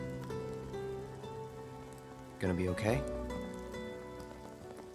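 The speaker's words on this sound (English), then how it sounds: "And it's raining." Steady rain patters on surfaces in the video game Final Fantasy VII Remake, a constant soft hiss running throughout while characters speak over it and a brief musical burst cuts in midway.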